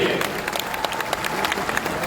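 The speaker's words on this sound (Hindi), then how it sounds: "एक बार जोरदार ताली से स्वागत करिए" An audience in Patna's Bapu Sabhagar hall gives loud, sustained applause to welcome a politician at a political party gathering. The dense clapping fills the whole moment.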